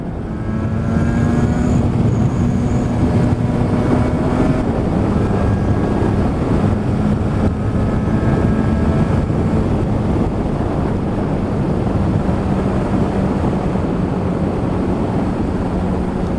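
A Yamaha RD350 F2 YPVS two-stroke motorcycle engine drones steadily while riding, its low buzz heavily mixed with loud wind rush throughout.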